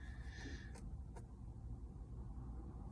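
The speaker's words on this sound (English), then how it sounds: "let me turn my car off because I don't got no gas" A car engine shuts off inside the vehicle: a steady low idle rumble with a brief whir and two sharp clicks near the start, then a quieter cabin hum continuing alone.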